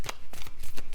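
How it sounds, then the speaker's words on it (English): Tarot cards are shuffled close up in a quick series of crisp riffling bursts, about five or six rapid flutters within one second, with no talking. "I've already shuffled the cards"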